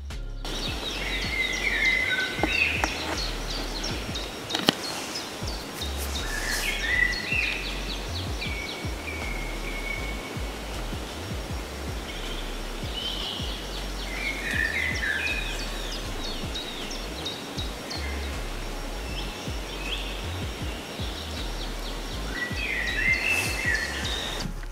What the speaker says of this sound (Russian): Где-то вот там вот так поет птица красиво.